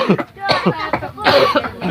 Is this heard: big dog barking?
no